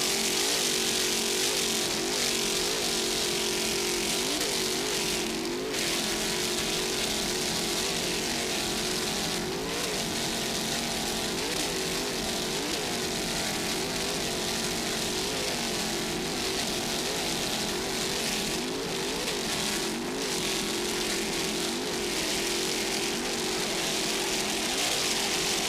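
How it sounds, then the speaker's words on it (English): Offshore racing powerboat engines roar at the 2000 Miami Superboat Grand Prix, a 30-foot Motion boat with twin 2.5 BFI outboards, heard as a continuous loud, wavering drone with rising and falling throttle pitch throughout. "nice throttling there by Gary Guido"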